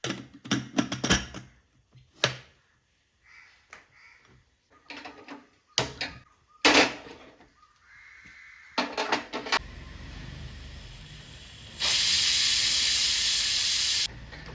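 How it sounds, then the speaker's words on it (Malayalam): A pressure cooker cooking beef gives off a sustained loud hiss of steam near the end, after a run of sharp clanks and knocks of pots and utensils nearby. "അപ്പോൾ അതാ ബീഫ് ഒരു വിസിൽ വന്നിട്ടുണ്ട്."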